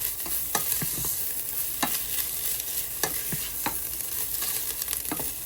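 Seasoning being sautéed into Guyanese vegetable rice in a pan, with a steady close sizzle and repeated sharp scrapes and stirs of a spoon through the grains, no talking.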